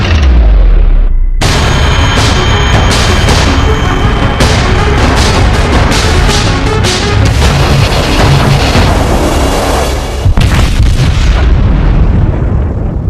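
Iowa-class battleship USS New Jersey firing its 16-inch guns: a massive close boom opens, followed by a long rolling roar and rumble that sustains for several seconds, with a second heavy blast near the end.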